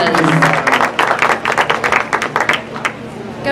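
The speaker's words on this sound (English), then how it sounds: "Let's give those exhibitors a round of applause" Spectators at a junior livestock show clap for the exhibitors, a close, uneven patter of many hands with some crowd voices mixed in, fading slightly toward the end.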